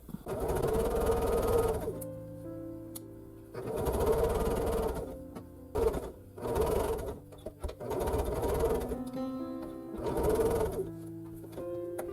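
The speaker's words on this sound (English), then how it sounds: "I'm going to go ahead and stitch these together this time before I press those seams." A sewing machine stitches quilt block pieces together in several loud, steady whirring bursts of a few seconds each, separated by short pauses with faint handling sounds, close up and without speech.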